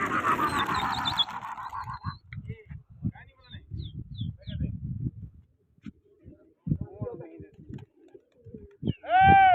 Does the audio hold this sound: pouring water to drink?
no